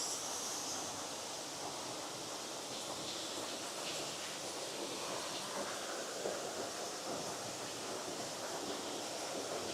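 A small waterfall at Busch Gardens Tampa Bay rushes in a steady, broad wash of water noise, continuous and fairly loud throughout with no talking.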